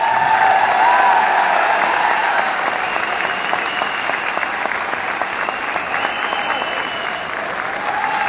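An audience applauds at a wellness company event, a dense, loud round of clapping that carries steadily throughout with a faint crowd murmur beneath.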